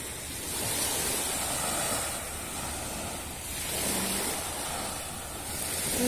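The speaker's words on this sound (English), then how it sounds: "the sound of the waves" Ocean waves wash up on a resort beach in Bohol at sunset, a steady broadband surf roar that swells and recedes in slow surges, close and continuous, with no talking.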